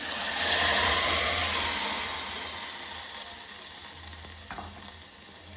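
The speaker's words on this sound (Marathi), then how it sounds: "चला हे वाटलेलं मिश्रण आता ह्या फोडणीमध्ये टाकणार आहे" A loud, steady sizzle of wet ground paste for a potato and peanut curry hitting hot oil tempering, bursting in strongly at first and then easing slightly, with a faint clink near the end.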